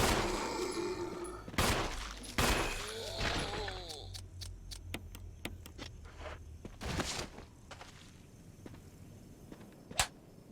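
Gunfire in the video game Resident Evil HD Remaster, a few sharp, loud shots spaced apart followed by fainter clicks and footstep-like taps, with other game sounds around them.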